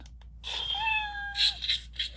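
A synthetic cat meow from a lightsaber sound font, with a bright, electronic, buzzy tone, rising then sliding down and sustained, followed by a few short humming pulses.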